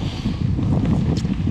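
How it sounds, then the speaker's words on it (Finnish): Strong wind buffets the microphone with a low, rumbling roar throughout, in the Lemmenjoki and Hammastunturi wilderness of Finland. "Nyt on vaan kova tuuli"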